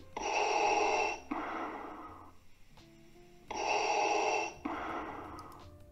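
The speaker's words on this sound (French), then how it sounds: "Le deuxième correspond vraiment à la respiration que je recherchais" Breathing sound effect: two heavy breath cycles, each a long raspy inhale followed by a rougher exhale, close and alone with a brief quiet gap between them.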